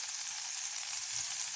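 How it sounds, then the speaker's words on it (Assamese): Chopped onion sizzles in hot refined oil in a pan, a soft, continuous, even hiss with no talking. "গৰম হ'লত ইয়াত পিঁয়াজ দি দিছোঁ। মই ইয়াত ৰিফাইন তেল ব্যৱহাৰ কৰিছোঁ।"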